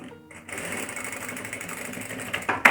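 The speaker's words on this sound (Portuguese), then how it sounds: "Venho com uma costura aqui com um pé de máquina." Sewing machine with a presser foot running a seam on face-mask fabric, a fast steady mechanical whir starting after a brief pause, close and moderately quiet.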